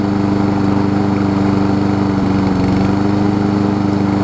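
A Lawn-Boy push lawn mower engine runs steadily at a constant, loud drone with no breaks or voices.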